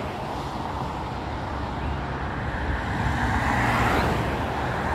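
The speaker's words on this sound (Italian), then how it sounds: "Tre macchine." Cars passing on a road at the Giro d'Italia 2021, a steady loud roar of traffic that swells toward the end as vehicles go by close.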